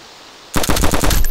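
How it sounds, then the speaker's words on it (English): Rapid automatic gunfire in the DayZ video game, a dense loud burst of shots that starts abruptly after a quiet moment and keeps rattling to the end. "Shoot him through the window"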